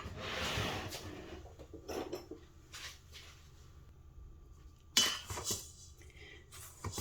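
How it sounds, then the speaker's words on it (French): Sesame, fennel, anise, sugar and flour are stirred together in a bowl for Eid bread, giving faint, close scraping and rubbing with scattered light clinks of a utensil and one sharper knock. "sésame, fenouil, de sucre. On mélange le tout."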